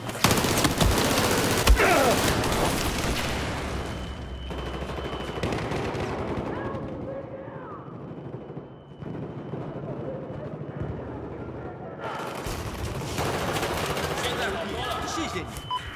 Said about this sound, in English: who the fuck's shooting at me?